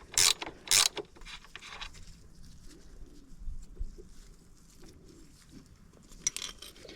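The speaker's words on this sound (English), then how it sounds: "once you get the nut off the back, we're going to set that to the side" Two loud ratcheting bursts as a nut is removed from the kickstand mount on a 2024 Honda CRF300L motorcycle, followed by quieter mechanical fiddling and faint clicks, close up with no talking.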